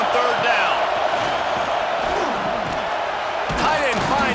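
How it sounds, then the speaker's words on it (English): A stadium crowd roars in a college football video game, Auburn against Alabama, as the defense lines up on third down, a loud sustained swell of cheering beneath steady play-by-play commentary. "Decibels rising as the crowd gets behind this defense on third down."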